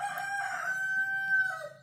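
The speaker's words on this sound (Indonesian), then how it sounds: "Wah, ada suara ayam." A rooster crows once, a clear drawn-out call nearby, fairly faint, ending with a falling note.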